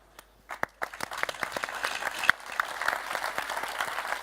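An audience at a RuneScape presentation breaks into applause, starting with scattered claps that quickly build into steady, sustained clapping from a moderately sized crowd heard at a slight distance.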